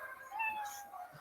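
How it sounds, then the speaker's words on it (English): High, thin meows from a small baby kitten sound effect, faint and drawn out, repeating softly against a quiet background. "It's such a tiny little baby kitty."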